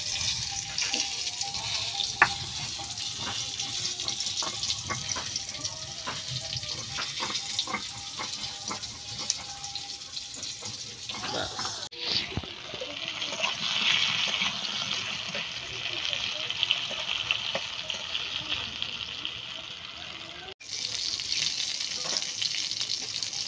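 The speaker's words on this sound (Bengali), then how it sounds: "দেখতেই পাচ্ছ মোটামুটি আমার পটল ভাজা হয়ে গেছে" Pieces of pointed gourd fry in a pan over a clay stove with a continuous crackling sizzle and a run of stirring clicks, the sizzle swelling louder partway through.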